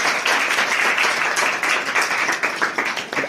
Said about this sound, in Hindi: तो जोरदार ताली बजाओ पूजा मैम के लिए।